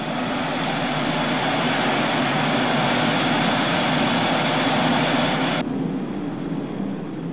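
Engines of a B-47 Stratojet bomber run up to power for takeoff, a loud, steady roar whose hiss cuts off near the end while a lower rumble carries on.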